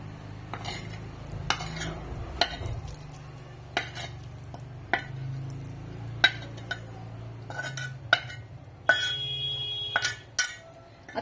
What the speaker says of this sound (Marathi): तर आता याच्यामध्ये मी भेंडी घालणार आहे।